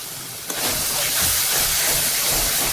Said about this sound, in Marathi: आणखी 1-2 मिनिटं मी फ्राय करून घेते